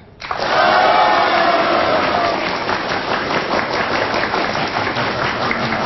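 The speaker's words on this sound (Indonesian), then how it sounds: "Tepuk tangan." A studio audience at an Indonesian television talk show breaks into loud, sustained applause that begins abruptly and holds steady for several seconds.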